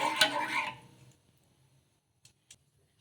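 A short burst of stirring and swishing in a pot of salted water, then near silence broken by two faint clicks.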